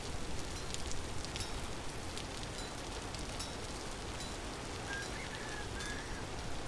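Rain in a video game, a dense steady patter of drops on surfaces that continues evenly throughout with no talking.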